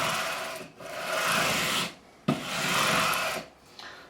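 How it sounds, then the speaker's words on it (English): Sandpaper of 240 grit rasps across the frets of a Harley Benton SC Custom electric guitar in two long strokes with a brief pause between, close and steady, with no talk. "So, we're going to go across with a 240 grit."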